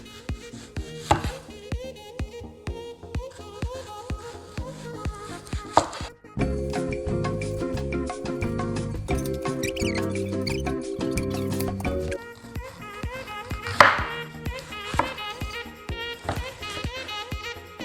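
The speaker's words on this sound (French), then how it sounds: "on va couper tous les oignons en petits morceaux" Knife chopping onions on a cutting board, quick irregular taps close by, mixed with background music and a stretch of louder music in the middle.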